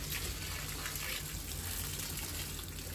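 Water pouring steadily onto balcony pot plants during watering, a continuous close gushing splash with no talk.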